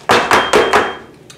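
Four loud, quick bangs of a metal pan holding dense cake batter knocked against a hard counter, evenly spaced and close, followed by a faint tap.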